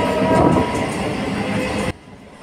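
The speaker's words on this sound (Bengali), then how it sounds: "ট্রেন ঢুকছে, ওদিকে সিগন্যাল দিচ্ছে" A Katwa–Howrah local train pulls into a station with a loud, close rumble and rattle of wagons that holds steady, then cuts off abruptly to quieter ambience.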